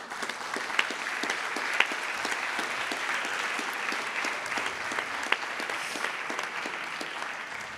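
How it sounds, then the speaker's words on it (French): An audience at an annual convention applauds the witnesses, a steady, even roar of many hands clapping from a fair distance that lasts about eight seconds, with a few sharper claps standing out. "Vous pouvez les applaudir."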